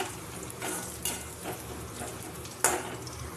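Onions and spices frying in a pan, a soft steady sizzle broken by a few scrapes and clinks as a utensil stirs against the metal, close but fairly quiet, with no talking.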